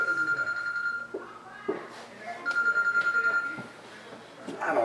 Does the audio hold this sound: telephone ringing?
yes